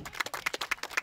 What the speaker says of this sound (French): On peut s'applaudir tout le monde.